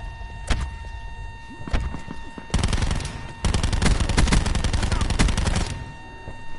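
Gunfire in a shooting video game: a single shot and a few scattered pops, then sustained automatic bursts of rapid shots, loud and continuous for several seconds before stopping.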